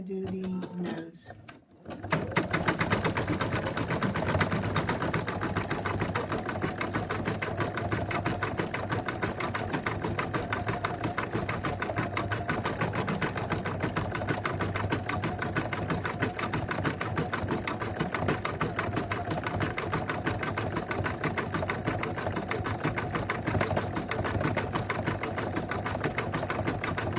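An embroidery machine stitching the nose of a cat design, a steady fast rattling hum that starts after a brief pause and continues evenly and closely throughout.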